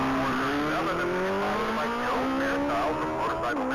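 A race car launches off the starting line at the Texas Mile top-speed event, its loud engine note climbing steadily in pitch through the gears, close and continuous, with a faint tire squeal.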